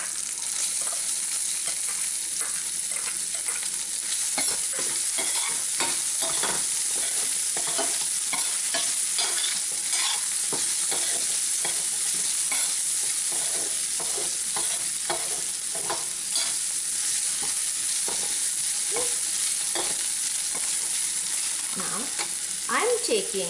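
Food sizzles steadily in a hot pan while a utensil stirs and scrapes repeatedly through green bell pepper, close and continuous, with no talking.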